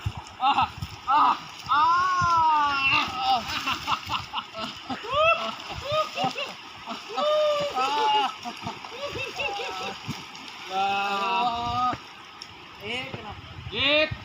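Cold water splashes in short bursts as people bathe during a mountain fort trek, with people talking and calling out nearby, voices mostly on top of the splashing.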